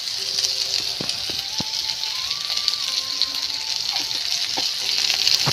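Ginger and green chilli frying in oil in a kadai, a continuous hissing sizzle with a few sharp utensil clicks, close and fairly loud, with no voice over it.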